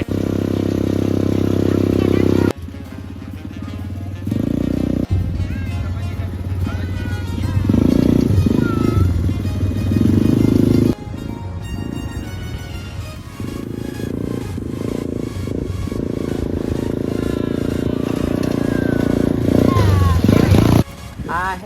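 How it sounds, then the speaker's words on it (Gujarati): An adventure motorbike rides along at a hill station, its engine note droning loud and close, rising and falling with gear changes, and people talk over it. "આ એડવેન્ચર વાળી બાઇક ચલાવીને મજા આવી ગઈ"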